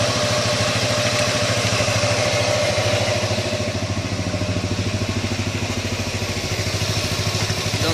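A Kymco 400 scooter engine idles steadily while warming up, a close, even mechanical chug with light clatter holding at a constant level throughout.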